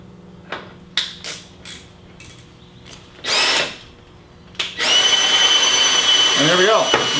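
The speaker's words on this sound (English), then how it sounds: "I got my Hilti cordless drill." A few clicks and knocks, then a short burst of a Hilti cordless drill's whine, followed by a longer sustained high-pitched drill run, loud and close, in a garage.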